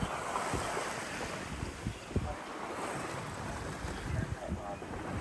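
A sailboat under way at night under gennaker at over five knots, with steady wave wash and water rushing along the hull, buffeted by wind noise, fairly close and continuous.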